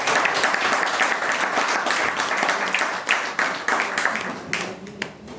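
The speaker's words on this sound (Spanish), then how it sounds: "¡Un aplauso!" An audience at a café gathering gives brisk, lively applause that stays full for several seconds before breaking up into a few scattered claps.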